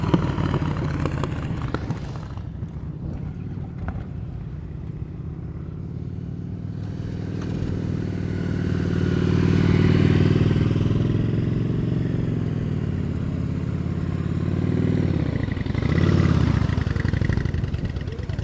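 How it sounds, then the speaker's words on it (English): Motorcycle engine at low revs during slow-speed riding practice, a steady close drone that swells as the bike passes nearer and fades again, with no talk over it. "Hey Gary, your RPMs are very low."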